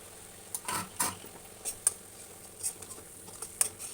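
Spinach (palak) frying in a covered pan, with soft intermittent sizzling and patter and a few light metallic clinks of lid or utensil, fairly faint and close, with no talking.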